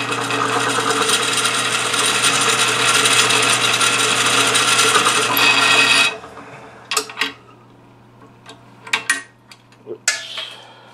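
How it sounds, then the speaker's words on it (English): A drill boring a pocket into a homemade engraving hand-piece held in a vise: steady, loud grinding whir for several seconds, then it stops and is followed by scattered clicks and light metallic handling sounds. "now I'm ready to drill a little bit more out"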